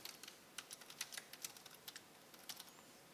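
Keys clatter on a computer keyboard in quick, uneven bursts of light clicks, close and fairly quiet, with no voices.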